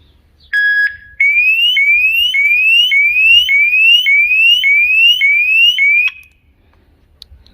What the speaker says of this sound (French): Si je passe la main sur un des faisceaux, je vais déclencher automatiquement la sirène.